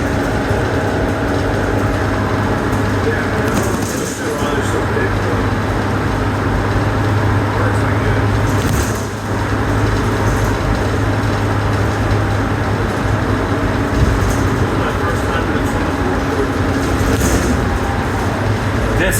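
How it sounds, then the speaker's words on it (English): A steady drone of a 2024 Gillig BRT bus engine fills the cabin during the ride, with a constant low hum and faint rattles. "This bus is running great."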